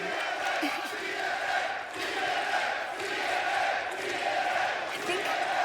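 A TNA wrestling arena crowd cheers and chants in rhythmic swells, a broad roar that rises and dips, with a commentator's voice faintly mixed in.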